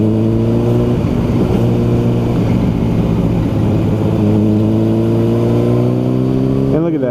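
A 2007 Honda CBR600RR sport bike engine heard while riding at a steady pace in one gear, a loud, close, sustained drone that rises in pitch at the very end, with a rider talking over it.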